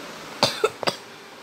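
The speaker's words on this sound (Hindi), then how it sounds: "अगर आपको भी ऐसी खांसी आई हो तो तुरंत डॉक्टर को कीजिए" A few quick, sharp coughs in a short burst, close and fairly loud, with silence afterward.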